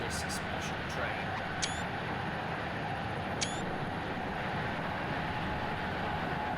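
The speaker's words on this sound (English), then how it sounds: "Just got us in a tilting train. No passengers on board. It's an empty train." An empty tilting passenger train running on rails, heard from on board as a steady, muffled rolling rumble with a couple of faint high squeaks, continuous and even throughout.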